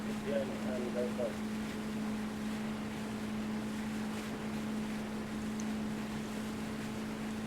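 A steady low boat engine drone in Arma 3 hums continuously with a wind-like rush, loud and unbroken throughout.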